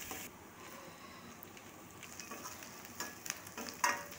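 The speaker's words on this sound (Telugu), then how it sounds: "ఆనియన్స్ 2-3 నిమిషాలు ఫ్రై చేసుకోవాలి" Onions and green chillies fry in hot oil in a pan for a chicken fry, a soft continuous sizzle with occasional stirring scrapes and pops, quiet and close, without talking.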